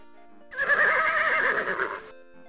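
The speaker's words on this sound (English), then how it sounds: "my steed shall take the three of you back to the land of the living" A horse neighs once in King's Quest 6, a clear, close whinny lasting about a second and a half. It rises and wavers over a quiet musical background.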